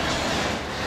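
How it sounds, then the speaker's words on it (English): Steady rumbling rattle of a small kiddie train ride rolling along indoors in a shopping mall, continuous and fairly close, with no voices. "What's the sound of the train?"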